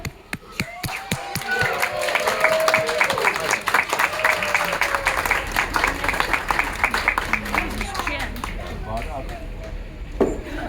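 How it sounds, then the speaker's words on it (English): A crowd at an alligator rescue show bursts into applause, steady rattling clapping from many hands that swells and then thins out, with a few cheers and voices mixed in. "Give that alligator some applause."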